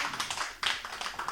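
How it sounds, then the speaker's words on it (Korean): Clapping from a church congregation at a Sunday afternoon service, honoring a pastor, a missionary and the pastor's wife; a brief burst of scattered hand claps at moderate distance, with no voices. "우리 목사님, 우리 선교사님 그리고 사모님 박수 한번 해드리도록 하겠습니다."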